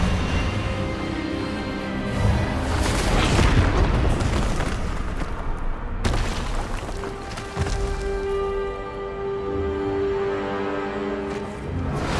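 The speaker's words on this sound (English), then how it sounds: "Expelliarmus!" Expelliarmus spell cast in Hogwarts Legacy on PS5, a booming magical burst with sustained rumble and a sharp crack midway, dense and loud throughout.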